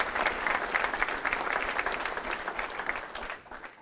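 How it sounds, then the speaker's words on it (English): A Hall of Fame induction ceremony audience gives Adam and Nate a round of applause, a dense burst of many clapping hands that stays steady and fairly loud, then tapers off near the end. "So I'd like to give a round of applause to Adam and Nate for their hard work"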